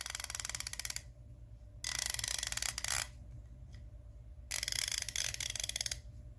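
A Carlyle 1/2 inch comfort grip long 90-tooth ratchet clicks in fine, fast, even bursts, three close ratcheting runs with quiet pauses between them.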